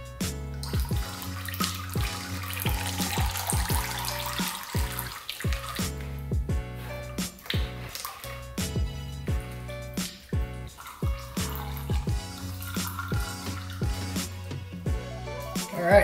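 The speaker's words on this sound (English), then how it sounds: "So now I'm gonna stand it up and let all this fluid drain out of here." Transmission fluid drains from a 4L80E valve body stood on end, a quiet trickle and splashing patter that keeps going steadily, close and soft.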